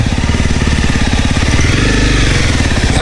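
A motorcycle engine chugs loudly and steadily up close on a slippery road to Sangab Falls, its rhythmic rumble continuous throughout with no voices.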